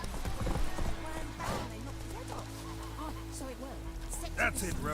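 Hooves clip-clop steadily as Geralt's horse Roach trots in The Witcher 3, with a whinny-like snort near the end over a low ambient game soundscape while someone talks.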